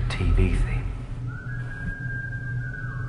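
A person whistles a TV theme tune, a thin steady tone entering after a brief spoken line and holding through the rest, with background noise beneath.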